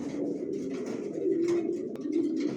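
New adult racer pigeons coo in a close, steady low throb with slight swells in loudness and no talking.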